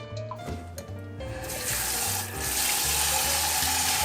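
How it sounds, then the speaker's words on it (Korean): Rice is rinsed in water, with tap water running and splashing into a bowl, a steady close-up rush that swells louder halfway through, with no talking. "다시 물에 헹구어냅니다."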